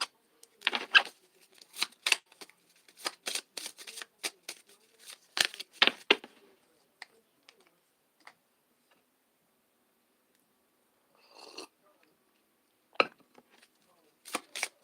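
Handmade rune cards handled and shuffled, bursts of soft papery flicks and taps in clusters, quiet and close, with pauses between handlings.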